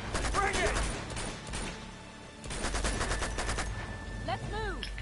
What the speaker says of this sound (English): There's a shot.